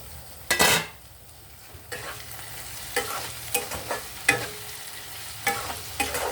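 Eggplant curry is stirred and simmers in a pan, a spoon scraping and clinking against the metal in scattered strokes over a low, steady sizzle.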